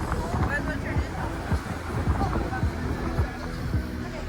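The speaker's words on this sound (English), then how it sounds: "It's breezy, all right." Wind gusts buffet the microphone beside the water at a cruise port in Victoria, BC, a steady rumbling breeze with low thumps, under people's talk.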